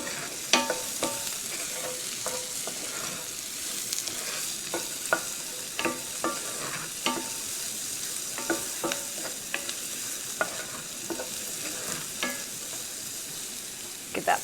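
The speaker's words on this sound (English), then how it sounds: "We're gonna cook these onions maybe 4 or 5 minutes, just until they start to soften up and start to get translucent." Onions sauté in a pan with a continuous soft sizzle, broken by frequent scraping and tapping as they are stirred, with no voices.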